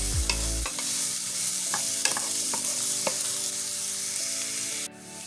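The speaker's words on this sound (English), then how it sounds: "once you're done sauteing your onions and garlic" Onions and garlic sauté in a pan for mini chili pot pies, a continuous close sizzle with a spoon scraping and tapping the pan in irregular strokes under background music, before the sizzle dips near the end.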